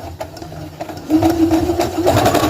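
A sewing machine stitching a child's summer pajama romper starts slowly and then runs in a steady, close mechanical whir, pausing briefly before continuing.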